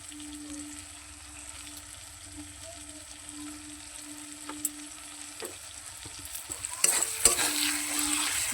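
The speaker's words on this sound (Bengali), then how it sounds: "ভালো করে এটাকে আমি ভালো করে কষিয়ে নেবো।" Meat is stir-fried with salt and chili powder in a pan, giving a soft steady sizzle, and louder scraping stirs break in near the end.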